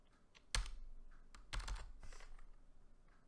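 Quick keystrokes on a computer keyboard as commands are entered, a few isolated clicks followed by two short bursts of typing, close and clear in a quiet room.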